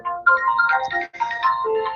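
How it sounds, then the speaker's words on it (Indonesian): A mobile phone ringtone plays a bright, close melodic tune with a short pause in the middle during an Islamic religious talk, heard clearly on its own with no speech. "ini ada telepon sebentar ya"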